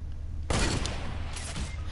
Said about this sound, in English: I got sniped behind him